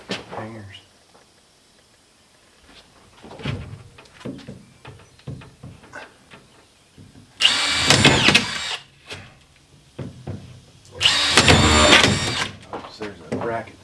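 A power drill drives into drywall in two loud, close bursts of a few seconds each, separated by quieter handling noises and people talking.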